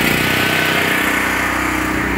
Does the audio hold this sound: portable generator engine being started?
yes